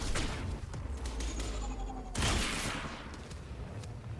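Rapid bursts of gunfire from the video game Quantum Break, a dense fusillade of shots in the first two seconds, then a louder volley followed by fading echoes and debris.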